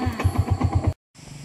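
A motorcycle engine runs with a rapid, even chugging pulse near the listener, then cuts out abruptly into a brief silence before a fainter, steady rumble returns.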